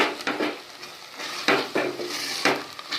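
Sweet pongal being stirred after ghee-fried cashews and raisins go in, a spoon scraping the pot in repeated swishing strokes about once a second, close and fairly loud.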